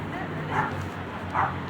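A dog gives two short yelping whimpers about a second apart, close to the microphone, over a steady low background murmur.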